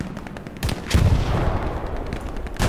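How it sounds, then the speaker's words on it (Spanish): Battlefield gunfire in Hell Let Loose, with sharp shots and machine-gun bursts rolling over a heavy low boom, loud and continuous with distant echoing reports. "Siguen disparando"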